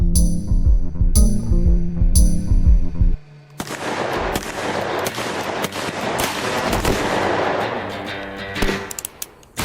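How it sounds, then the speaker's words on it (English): Bursts of gunfire crack out, a few heavy shots first, then a dense rattle of rapid shots that echoes on for several seconds. "With gunshots raining down from the hills"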